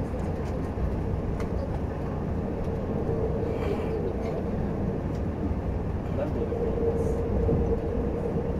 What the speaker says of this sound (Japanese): まもなく奈良線から大阪線へ入る渡り線を通過します。